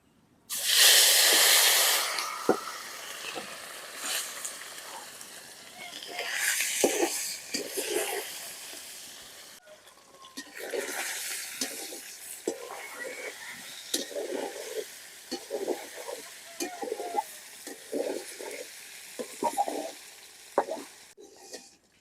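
Baim fish frying in hot oil in a pot, seasoned with turmeric powder and salt: a loud burst of sizzling as the fish goes in, then a steady crackling hiss with intermittent spatters and stirring clatter, no voices.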